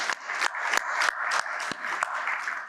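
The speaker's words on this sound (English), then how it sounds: "let's give them a clap" An audience at an African REIT industry conference in Kenya claps steadily, with a dense, sustained patter of many hands and a few sharper individual claps standing out.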